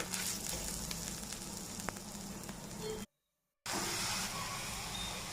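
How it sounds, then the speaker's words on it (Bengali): Spices such as Kashmiri red chilli powder, salt and shahi garam masala fry in oil for a vegetarian cauliflower curry, giving a steady, close sizzle that cuts out briefly and then resumes at the same level. "দিয়ে 5 মিনিট খুব ভালোভাবে কষিয়ে নেব মশলাগুলো।"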